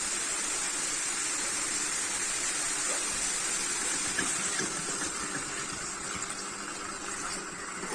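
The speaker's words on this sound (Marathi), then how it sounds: "आता मी ह्याच्यामध्ये टाकणार आहे पाणी." Water pours steadily into a pan of browned chicken for a Malvani chicken curry, a continuous broadband gush at moderate level with no talk.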